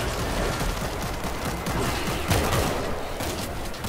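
Sustained, dense gunfire from the World War Z co-op shooter rattles on nonstop for several seconds, with a slightly louder burst near the middle and no clear gaps between shots.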